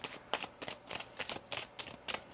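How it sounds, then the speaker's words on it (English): Tarot cards being shuffled by hand in a series of soft, crisp riffling bursts, about eight quick flurries at an even pace, close and fairly quiet. "One more shuffle here."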